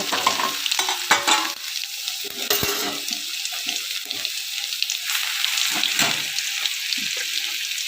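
Crushed garlic sizzles in hot oil with cumin, a constant loud, close hiss broken by scraping stirs and small clatters against the pan.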